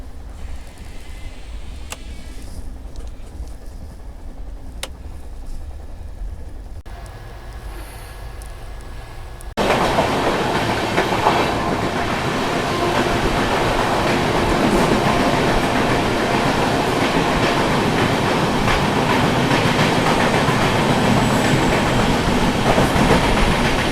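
Inside the Purvanchal Express running at night toward Kolkata, a steady rumble with rhythmic clickety-clack of wheels over rail joints, muffled at first, then suddenly much louder and rushing as a door opens.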